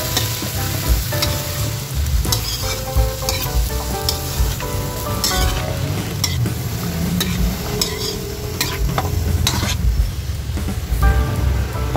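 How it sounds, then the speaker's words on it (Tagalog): Squash, eggplant, okra and string beans sizzle steadily as they are sautéed and stirred in a pan, with continuous frying crackle and occasional utensil scrapes, no talking. "Yung ating kalabasa, talong, okra at sitaw. Sabay-sabayin na natin. At igigisa lang natin guys bahagya."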